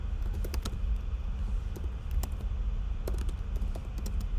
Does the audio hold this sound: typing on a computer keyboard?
yes